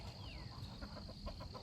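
Chickens just let out of their coop in the morning, faint scattered clucks over a quiet outdoor background, brief and soft.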